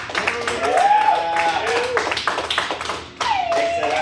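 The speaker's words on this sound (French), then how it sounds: "applaudissez-vous" A small audience claps close by with sharp, uneven hand claps, while voices call out over the clapping; a brief dip is followed by another round.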